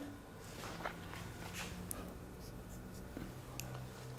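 Chalk or a marker scratches out words on a classroom board in a French lesson, faint short strokes with occasional taps and light shuffling, no speech.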